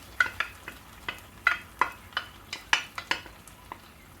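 Asparagus rolled around in a pan of marinade sauce, a soft sizzle under a quick irregular series of sharp taps and scrapes of a utensil against the pan, close and fairly quiet, with no speech.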